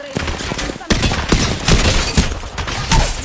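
Rapid automatic gunfire in an Italian-language multiplayer shooter game, dense bursts of shots crackling continuously and loudly over the whole stretch with no break.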